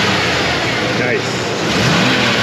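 A Ford OBS F150 5.0 engine, one with a blown-out spark plug, roars as the throttle is blipped, a loud, steady, rough mechanical growl that rises slightly toward the end, with brief voices nearby.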